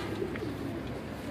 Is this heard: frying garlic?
no